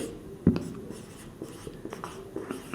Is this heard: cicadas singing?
no